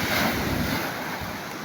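Sea waves wash against a rocky shore in a steady, full rush of surf with wind noise across the microphone, no voices.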